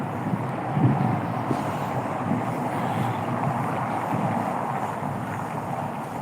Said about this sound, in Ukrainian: Вітер такий, що все добре